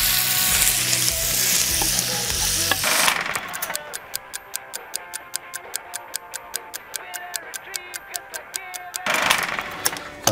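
Rabbit and bacon cook in a pot that is just coming to the boil, giving a steady sizzle with a regular, fast ticking of bubbles through the middle, close by.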